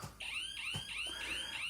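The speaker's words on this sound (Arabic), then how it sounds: "جهاز الانذار بدا يشتغل." A home alarm system siren sounds after a programmed door is opened, a loud repeating electronic whoop rising in pitch about four times over under two seconds, with a brief thump partway.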